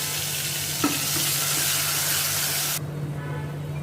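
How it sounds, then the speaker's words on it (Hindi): Tomato masala paste hitting a hot tempering with asafoetida in oil, a loud continuous sizzle and spatter close up, with a brief clunk near the start and the hiss dropping sharply toward the end. "इसमें भी मैं ये टमाटो वाला मैं पेस्ट डालती हूँ"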